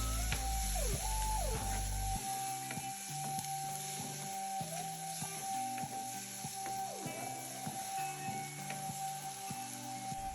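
Onions, curry leaves, pandan and spices sizzling in hot oil in a pan for a Sri Lankan dry fish curry, a steady frying hiss throughout with a constant tonal hum underneath.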